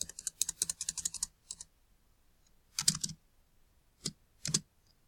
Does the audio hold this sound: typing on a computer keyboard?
yes